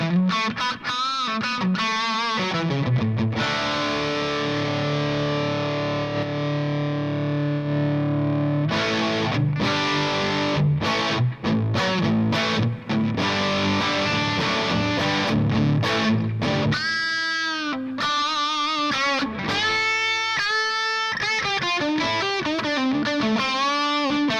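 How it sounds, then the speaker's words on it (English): Distorted electric guitar through a Marshall Plexi amp model pedal (jumped channels), with a crunchy, overdriven tone, plays chords and riffs continuously, loud and unaccompanied. "That's a model of a Plexi jumped."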